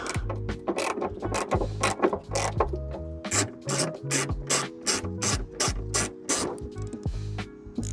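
A hand ratchet turns a fastener on a scrapyard Vauxhall Corsa, giving a long run of loud, close, rapid clicking strokes in steady bursts with no talk.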